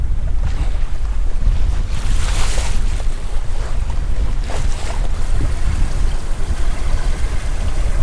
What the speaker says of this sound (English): We are sailing! That's so much better.